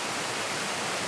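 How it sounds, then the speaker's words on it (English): The Mount Sprite waterfall near Banff and Canmore gives off a steady, dense rush of falling water that stays even and unbroken, with no talking. "Behind me is the Mount Sprite waterfall."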